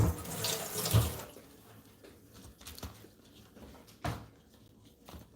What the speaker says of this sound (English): So let me rinse my knife off real quick